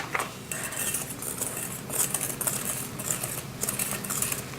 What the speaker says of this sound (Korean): 그래서 이 안에 가루가 안 보일 정도까지 섞어주세요.